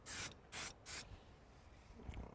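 Chemical Guys Nice and Wet tire shine sprayed from a trigger bottle in three quick hissing bursts, close and crisp, followed by quiet rustling.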